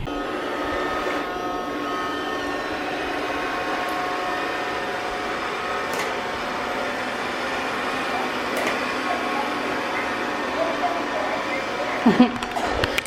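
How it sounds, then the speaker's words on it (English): A recharged robot vacuum cleaner working across a floor, giving a steady, moderately quiet whirring hum with faint bumps and a few clatters near the end. "I just charged that thing up all day, so it's vacuuming the floor"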